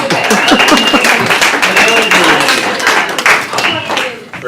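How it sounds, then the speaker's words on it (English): Audience at a public meeting on homelessness in Santa Cruz rising to give standing applause, loud sustained clapping from a close crowd with some voices mixed in, tapering slightly near the end. "If you agree with me, stand up and give them applause for listening and for our talk."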